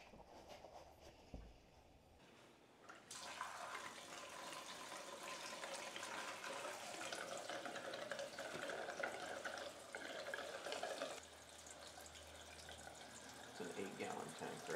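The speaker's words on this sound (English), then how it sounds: "first time fuel in the cell" Ninety-three octane fuel gurgles and splashes as it is poured into the 8-gallon fuel cell of a vintage modified race car, a steady rushing pour following quieter handling sounds, with faint voices nearby.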